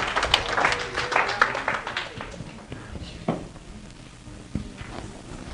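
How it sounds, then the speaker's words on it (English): Brief applause from a small group thanking Bible study presenters, scattered claps that fade quickly, with speech over and after them and a few isolated claps near the end. "Let's give them a round of applause."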